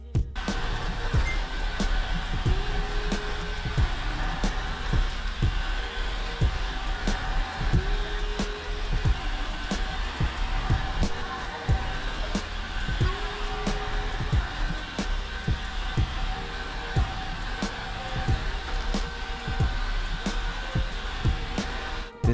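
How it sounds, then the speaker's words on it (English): A Coredy R550+ robot vacuum works over a floor scattered with fine tea leaves, giving a steady, loud motor whir with brush noise that runs unbroken and alone throughout. "This vacuum robot actually picked it up really well."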